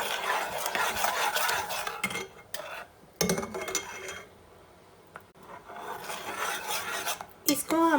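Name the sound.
stirring mango jam with a spoon while cooking on high flame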